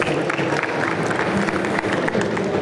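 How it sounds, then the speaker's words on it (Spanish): An audience at a Campus Party conference event in Zapopan claps steadily in a dense wash of applause lasting a few seconds, with faint voices mixed in. "Un aplauso, por favor."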